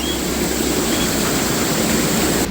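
Floodwater from the overflowing Warindin river rushing over a bridge on the Pantura road in Kendal, Central Java, a loud, steady, close roar of churning water with no pauses.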